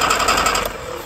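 A 1967 Austin Cooper S engine cranks over on the starter with a rapid, even, whirring chug. It is fairly close and steady, and the ignition has a spark but the engine does not catch.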